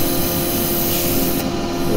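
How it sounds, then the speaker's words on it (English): Wood turning being sanded on the lathe, a steady close rubbing hiss over the hum of the spinning workpiece, continuous and fairly loud with no talking. "I'm going to do a little bit of sanding on here."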